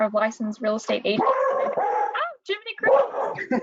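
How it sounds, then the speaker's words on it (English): A pet dog barks and yips in a home during a real estate market update call, its short repeated barks overlapping close, loud talk from people speaking. "Sorry, that's my dog."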